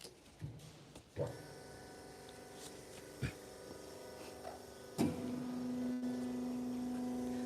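A stator and rotor motor recycling machine starts up with a few knocks and clunks, then settles into a steady, fairly quiet electric hum.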